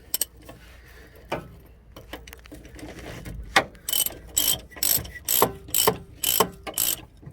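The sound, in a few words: tightening a truck shock absorber bolt with a wrench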